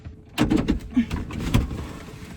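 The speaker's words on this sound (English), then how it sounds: "Just gotta lift up the metal thing while you pull the metal thing, and then the door clunks open." A Corvette door being worked open by lifting and pulling its metal latch, giving a few close, loud clunks and rattles over about two seconds, with no voices.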